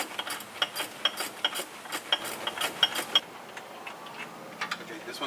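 A ratchet clicks in quick, regular strokes while loosening bolts during removal of a Nissan Leaf electric motor, close and crisp, then slows to a few scattered clicks.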